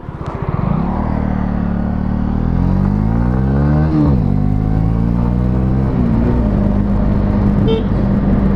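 A Honda CB 125R motorcycle horn sounds in long sustained blasts, its pitch bending and wavering, over a steady engine rumble close by.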